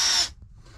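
A power tool whirs loudly for a brief burst while brackets go onto boards at a homestead, then it cuts off into quiet.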